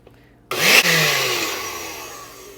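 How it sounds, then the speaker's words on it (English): A countertop blender starts up with a sudden loud whir and blends a smoothie, its motor pitch dropping slightly as it settles into a steady, continuous grind without talk. "So I put this all in the blender, and we're just going to blend this up."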